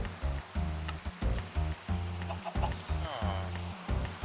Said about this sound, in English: Aw, we could have rain sounds.